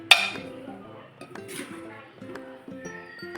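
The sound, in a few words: container being covered with its lid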